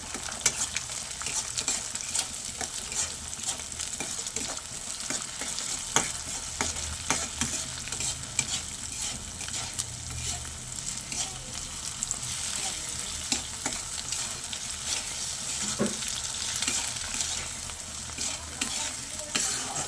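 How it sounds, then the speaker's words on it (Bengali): Egg and brinjal fry in a pan with a steady close sizzle, while a spatula stirs and scrapes through them continuously, adding soft clicks and scrapes over the constant hiss. "ডিমটাকে খুব ভালো করে আমি ডিমটাকে এবারে নাড়াচাড়া করে নেব"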